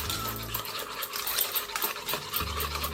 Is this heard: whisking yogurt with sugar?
yes